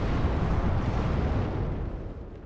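Gazelle helicopter cannon fire in the WARNO strategy game, a single loud, deep blast that rolls on and slowly fades over a couple of seconds, heard alone.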